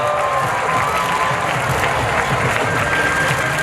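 A large crowd applauds at the closing ceremony of the 99th National Sports Festival, producing a steady, dense wash of clapping and crowd noise that stays loud and even throughout without breaks.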